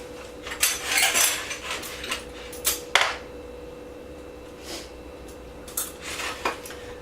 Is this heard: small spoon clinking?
yes